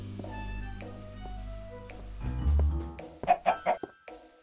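A Minecraft chicken gives a few short, close clucks at the end, after a low hum and some soft game sounds.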